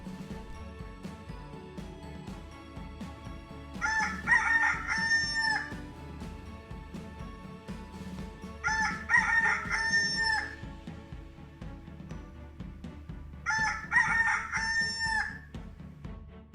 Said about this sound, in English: Just then, a rooster crowed.